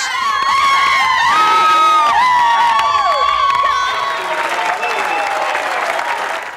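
Large audience of fans cheering, whooping and applauding loudly for a political figure in a television studio, a dense continuous roar of claps and shouts that eases slightly toward the end.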